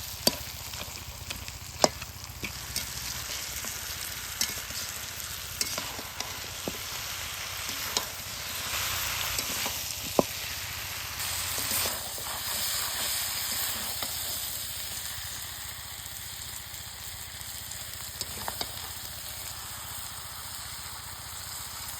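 Fish heads and banana stem frying in a pan give a steady soft sizzle and hiss, with scattered scraping taps of a spatula stirring now and then, close and fairly quiet throughout.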